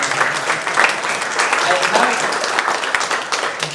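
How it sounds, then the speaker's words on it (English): Audience applause at a React Suspense conference talk, a dense steady wash of clapping lasting the whole stretch, fairly loud, with a voice or cheer briefly rising through it. "I think that deserves some applause."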